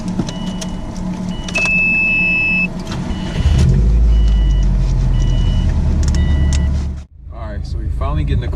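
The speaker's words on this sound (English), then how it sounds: "So we're finally getting the car warmed up" A car engine idles steadily with a low rumble, revving up partway through, close by, with a thin electronic tone and some background noise.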